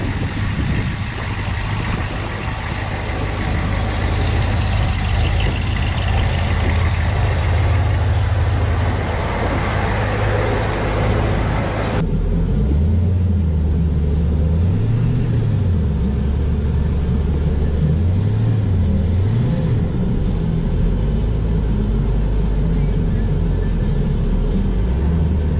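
A Jaguar XJS with a supercharged small-block Chevy V8 and a Weiand/B&M 144 blower drives on a test run, a loud engine drone that drops abruptly to a lower, rising and falling rumble of revs.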